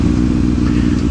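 Motorcycle fitted with a short M4 Shorty muffler in place of a long stock one, idling close by with a steady, loud, low rumbling exhaust throughout.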